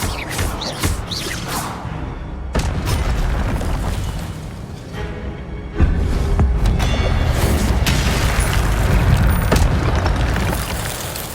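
A fiery Incendio spell blasts in Hogwarts Legacy, a loud roaring rush of flame with booming bursts and whooshes, the intensity surging again partway through and carrying on as a dense, close wall of sound.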